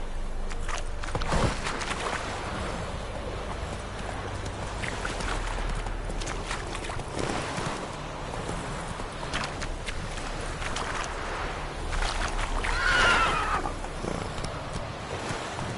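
Roach the horse gallops in The Witcher 3, hoofbeats pounding in a fast, continuous rhythm over busy game ambience, with a brief louder flurry near the end.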